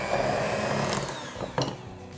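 An electric mixer whirs steadily through cookie batter as lemon juice and fine lemon zest are mixed in, a continuous motor drone that dips near the end with a couple of brief clunks.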